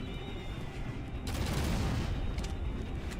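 Eldritch Reaper gun in the shooter game Shadowgun Legends, a brief burst of rapid shots rising over a dense, steady background roar, fairly faint, with no talking.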